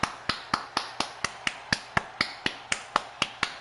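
Hand claps in a steady, even rhythm, about fifteen crisp claps over a few seconds, close and alone with no voices, during WWE 2K22 wrestling gameplay.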